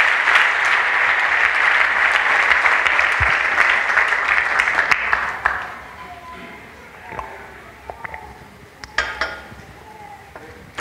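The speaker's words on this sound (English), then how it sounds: "If you are clapping, let it be unto Jesus." A church congregation breaks into loud, dense applause that holds steady for about five seconds, then thins into scattered claps and light clinks of dishes or glass in the room.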